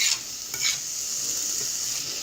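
Onions sautéing in a pot with bacon, a soft steady sizzle broken by a few scraping stir strokes near the start, fairly quiet and close.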